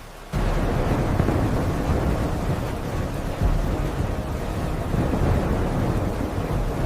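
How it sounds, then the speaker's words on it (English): A thunderstorm roars as a dense, continuous wash of rain and wind with low rumbling thunder swelling underneath, loud and unbroken from start to end. "A terrible storm,"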